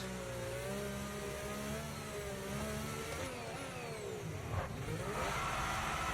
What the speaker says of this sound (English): there you can hear it. The weird tire noise